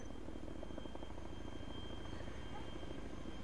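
Helicopter flying in the video game DayZ Epoch, heard as a steady, loud rotor-and-engine drone that fills the whole stretch without letup.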